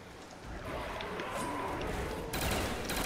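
Rapid gunfire in Call of Duty: Black Ops Zombies on the Der Riese map crackles continuously at a horde of zombies, dense and fairly loud, with a sharper burst near the end.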